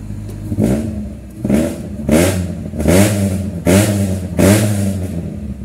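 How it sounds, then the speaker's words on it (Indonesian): A 1993 Toyota Great Corolla engine with a header exhaust revs loudly five times in steady repeated bursts, each rise and fall clear and close with no talking. "Seperti biasa kita mau cek sound untuk knalpotnya seperti apa"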